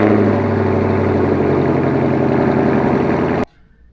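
A Camaro SS 1LE V8 fitted with Stainless Power headers and stock exhaust idles with a loud, deep, steady rumble for several seconds before shutting off abruptly, leaving near silence.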